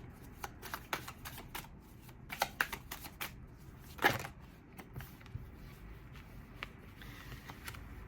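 Tarot cards being shuffled by hand, a run of soft riffling flicks and papery slaps in an irregular rhythm, close and fairly quiet, with one sharper burst of cards near the middle.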